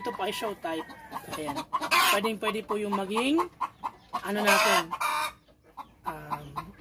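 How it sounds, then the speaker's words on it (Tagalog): Backyard free-range chickens, including Rhode Island Reds of a bamboo line, cluck and squawk loudly with occasional crowing, nearly continuous and close by, while a person talks over them. "pasensya na po sa ingay ng aking mga manok kasi nga po nandito tayo sa aking backyard farm. Kaya medyo maingay."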